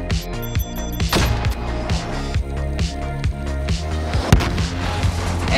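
Weapon firing in Call of Duty Modern Warfare as a rapid series of sharp, punchy blasts and thuds, irregular and dense, with clicks and impacts layered over a busy game mix.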